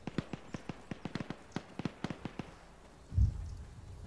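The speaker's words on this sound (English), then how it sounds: "And an explosion." A string of distant gunshots pops irregularly in Arma 3, then a single low, booming explosion thuds near the end and rumbles briefly.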